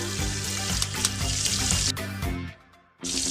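Chopped onions, garlic and green chillies sizzle loudly in hot oil in a wok for Kolkata street-style Hakka chowmein, a steady close crackle that briefly drops away near the end and then returns just as strong.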